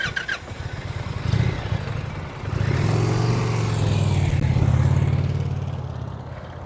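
A motorcycle ridden at slow speed during an advanced low-speed riding skills practice session in Florida, its engine droning steadily at low revs with slight swells in throttle, fairly close, with no talking.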